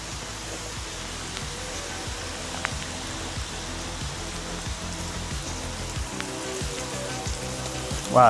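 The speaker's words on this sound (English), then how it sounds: "Wow, that was a lot of rain." Heavy rain pours down in a dense, steady hiss of drops striking surfaces close by, constant and unbroken, with a brief rustle near the end.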